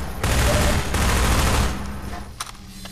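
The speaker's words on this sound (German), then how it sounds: "Schieße zu Tode, Geschütz." An automated turret gun firing in Half-Life 2 lets off a loud, sustained burst of rapid shots, then tapers into fainter scattered pops and a couple of short sharp hits.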